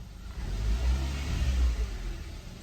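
Kia car engine with a faulty gearbox revving in reverse gear, a steady mid-pitched rumble rising and falling in close, loud swells with no talking.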